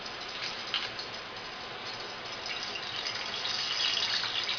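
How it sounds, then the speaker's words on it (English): Water pouring into a fryer pot while cooking Tom Yam instant noodles, a steady gushing stream heard close up that swells slightly toward the end, with no talking. "the water is spilling into the fryer"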